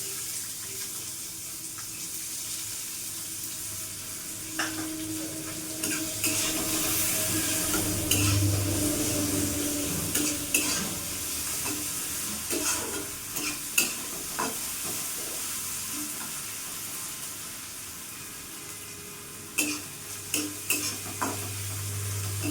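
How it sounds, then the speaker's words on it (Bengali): Chopped onion fries in a pan, a soft continuous sizzle broken by frequent scraping clicks of a spoon stirring against the pan, with a low hum underneath. "পেঁয়াজটা একটু ভাজা ভাজা হয়ে গেছে"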